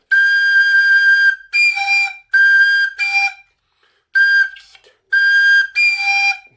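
A tin whistle plays a short phrase of clear, bright sustained notes with brief gaps between them, close and solo.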